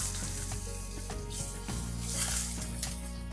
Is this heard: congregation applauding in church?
no